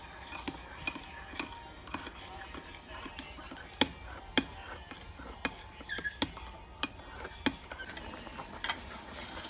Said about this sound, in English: And then you're going to want to mix it together